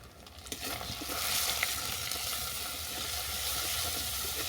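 Pointed gourd cooks in poppy-seed and nut paste in a pan, a continuous close sizzle and hiss that swells after a second, with stirring scrapes mixed in.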